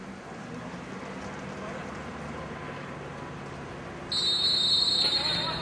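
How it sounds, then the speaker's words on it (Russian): A referee's whistle blown to start the second half of a football match between Narva Trans and MyPa, a sustained shrill tone arriving late over steady stadium ambience. "Главный арбитр дал свисток"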